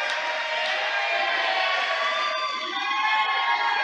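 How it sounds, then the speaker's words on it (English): Fans in the Caldwell Crazies student section at a high school basketball game give a sarcastic cheer, a steady wash of crowd voices and whoops filling the gym throughout. "Some sarcastic applause from the Caldwell Crazies that Caldwell finally got a call down low."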